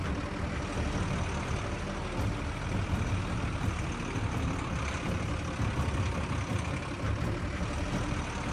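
A truck in the video game Animal Revolt Battle driving off: a steady, loud rumbling engine drone with continuous broadband road and motor noise and no pauses or talking throughout.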